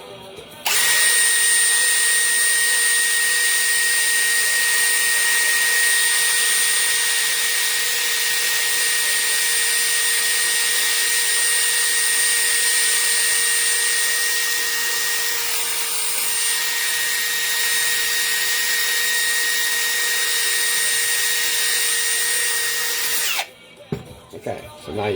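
A buffing wheel polishes brass lamp check rings, giving a loud, continuous high-pitched motor whine with grinding hiss that stays steady for about twenty-three seconds before it abruptly cuts off.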